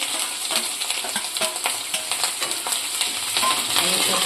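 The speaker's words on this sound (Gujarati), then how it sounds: "હવે આપણે કટિંગ કરેલા લીલા મરચાં નાખીશું" Chopped green chilies dropped into hot oil for a sago khichdi, crackling and sizzling steadily with rapid popping spatters and light utensil clinks over a few seconds, no speech.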